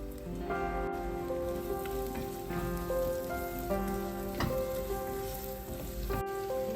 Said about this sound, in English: add some sliced shallots and saute for a few minutes